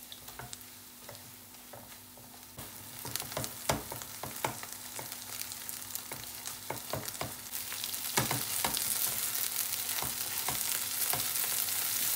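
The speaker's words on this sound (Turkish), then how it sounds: "Salçayı ekleyelim ve malzemeler ile karışmasını sağlayalım." Tomato paste being stirred into sizzling ingredients in a pan while making a milk and tomato paste pasta sauce, with steady frying hiss and repeated spatula scrapes and taps that grow busier toward the end.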